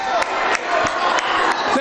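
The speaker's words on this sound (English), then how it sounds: "The crowd is in a roar." A crowd roars in a school gym during a boys varsity high school basketball game in the final seconds, a loud sustained din with sharp squeaks and shouts cutting through.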